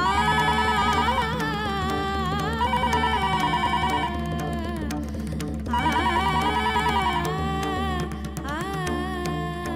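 A telephone rings with a steady, melodic ringtone that plays on for about ten seconds while a call is placed, loud and continuous, with no talking over it.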